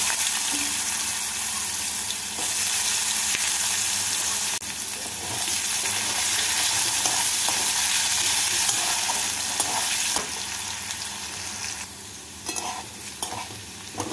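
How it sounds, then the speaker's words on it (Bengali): Cut potatoes sizzle in hot oil in a pan after a tempering of fenugreek seeds, a loud, continuous bright hiss with stirring scrapes and a few quieter dips. "আলুগুলোকে দিয়ে আলুগুলোকে লাল করে ভেজে নেব"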